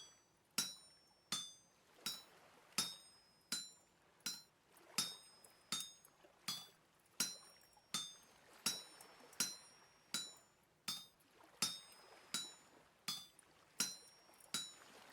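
A chisel is struck rhythmically against a stone-age iron bloom in a crafting game, about twenty sharp metallic clinks evenly spaced, each ringing briefly before the next blow, close and clear with no talk.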